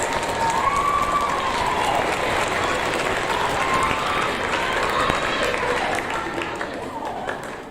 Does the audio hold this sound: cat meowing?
no